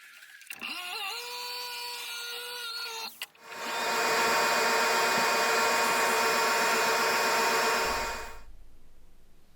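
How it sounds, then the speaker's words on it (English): A jigsaw cutting wood, then a table belt sander smoothing the wooden case of a circuit-bent Moog. A whining motor runs for about three seconds, then a louder steady rushing grind holds for roughly five seconds before cutting off. "I just used a jigsaw to cut all the inside and outside shapes, and then a table belt sander to get all the outsides down nice and smooth."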